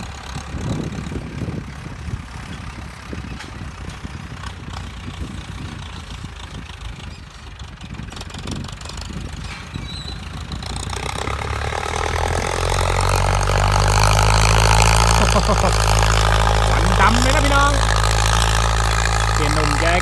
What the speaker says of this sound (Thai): เสียงท่อนี่ดังนิ่มดีจังนะพี่น้อง